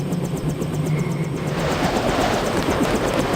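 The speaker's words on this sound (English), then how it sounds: "The snipers heard your helicopter and took off." Helicopter in the PC game Deus Ex, a steady loud rotor drone with rhythmic chopping and a constant engine rumble that holds on throughout, no voices over it.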